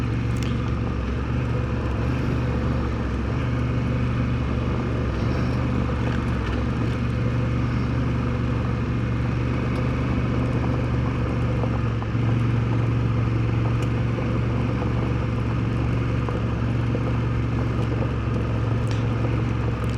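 A Honda Africa Twin motorcycle rides steadily along a road, its engine giving a constant loud low drone mixed with wind and road rumble for the whole stretch, with no break or change in pace.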